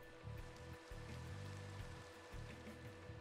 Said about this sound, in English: Is it really raining as bad as it sounds?